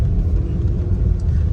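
Dense traffic rumbles along a street in the DHA area of Karachi, where a road under construction carries two-way traffic. Close, continuous low engine and tyre noise fills the clip with no talk.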